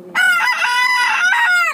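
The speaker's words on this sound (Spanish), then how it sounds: "Es una gallina pinta" A rooster crows loudly and close by, one long harmonic call that rises, holds and trails off near the end.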